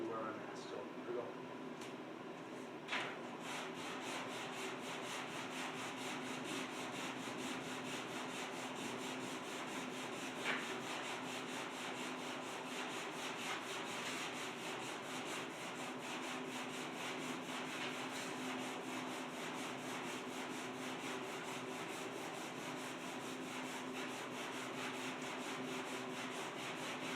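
A truck bed being sanded, a steady continuous abrasive rubbing and scraping that runs throughout at an even level with a brief louder bump near the start, while a person talks now and then.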